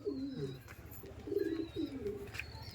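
Pigeons cooing close by, several soft low rolling coos in a loose sequence, with a faint high bird chirp in the background.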